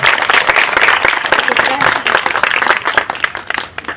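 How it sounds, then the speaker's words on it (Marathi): A crowd of parents and guests at a school cultural event claps loudly in a sustained, close burst of applause. The clapping thins toward the end, and voices can be heard faintly beneath it. "सगळ्यात आधी शाळेसाठी आणि इथल्या सगळ्या शिक्षकांसाठी सगळ्यात आधी टाळ्या वाजवा"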